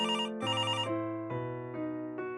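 A landline telephone rings with a steady electronic trill, repeating in short bursts that step between tones, fairly faint and heard alone without voices.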